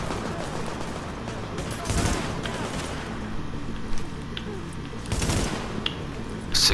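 Rapid gunfire from The Division video game rattles in dense bursts against a constant noisy backdrop, with someone talking over the shots.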